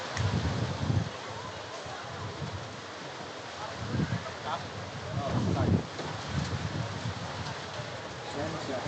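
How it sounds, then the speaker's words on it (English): Wind gusts across an outdoor playing field at a championship event in light drizzle, a constant hiss with low rumbling buffets that rise and fall every few seconds. "it's more windy than rainy right now"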